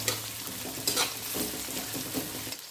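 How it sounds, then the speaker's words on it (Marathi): Onion being sautéed in a pan for mutton curry: a dense, steady sizzle with scraping stirs and small clatters, close and loud, with no talk. "कांदा घालून घ्यायचा, कांदा परतून घ्यायचा"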